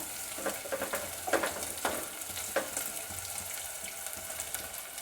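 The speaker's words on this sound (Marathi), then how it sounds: "थोडंसं परतून घ्यायचं आहे आपल्याला कांदा" Soft sizzling with intermittent scraping and stirring as onion sautés in a pan, steady and close, no voices.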